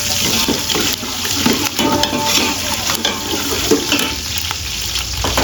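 Curry leaves with green and dried chillies frying in hot oil in a pan: a loud, continuous crackling sizzle with occasional stirring scrapes, close up and without talk.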